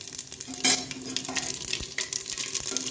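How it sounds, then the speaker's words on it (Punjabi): Steady crackling sizzle of cumin seeds hitting hot oil, close and fairly loud, with a few sharper pops and a light scrape of stirring. "ਤੇਲ ਸਾਡਾ ਗਰਮ ਹੋ ਗਿਆ ਤੇ ਅਸੀਂ ਚਮਚ ਜੀਰੇ ਦਾ ਪਾ ਦਾਂਗੇ"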